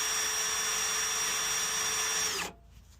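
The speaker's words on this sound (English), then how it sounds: "Right, got my hole drilled in my bumper." A power drill with a step bit whines steadily at high speed, biting through a car bumper on a Mk1 Ford Fiesta, then cuts off abruptly near the end, leaving quiet.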